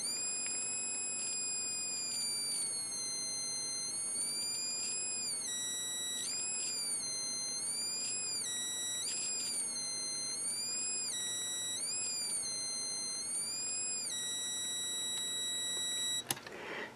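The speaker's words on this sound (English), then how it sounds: "you can hear the whistle chip a lot better now." A SnapCircuits whistle chip sounds in a custom electronics circuit, producing a steady, piercing high whistle that repeatedly bends and warbles in pitch for the whole stretch, ending with a short sharp click.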